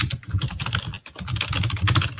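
Rapid, steady clicking of computer keys being typed on nearby, with a brief pause midway.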